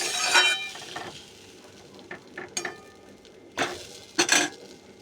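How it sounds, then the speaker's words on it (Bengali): Potatoes and spices for a katla fish curry stirred in a frying pan, with a soft sizzle under several sharp utensil scrapes and clinks against the pan, the loudest near the end. "এবার আমি আলু দিয়ে মশলাটা ভালো করে কষে নেব"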